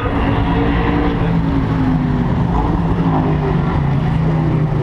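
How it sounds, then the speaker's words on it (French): Ford GT40 and AC Cobra racing cars roar past on a circuit in a loud, continuous engine drone that stays steady and close throughout. "toutes les voitures, comme les Ford GT40 et les AC Cobra, eh bien, font parler la poudre"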